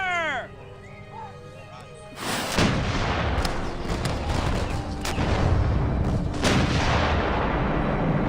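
A muzzle-loading cannon fires during a Seven Years' War battle reenactment: a brief call first, then one loud, close boom that rolls into a long, rumbling decay.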